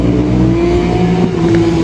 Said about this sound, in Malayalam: നല്ല പൊട്ടിക്കൽ പൊട്ടിച്ചിട്ടാണ് ആ വണ്ടി പോണത്.